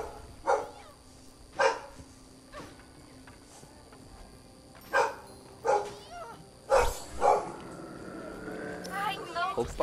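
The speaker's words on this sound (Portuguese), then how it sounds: "eu começo a gravar vídeo já começa cachorro latir" A dog barks outside, heard indoors during a home recording: a series of sharp separate barks, moderately distant, repeating irregularly over several seconds, with more clustered barks and some background rustle toward the end.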